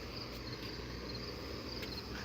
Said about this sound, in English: You hear them fucking crickets?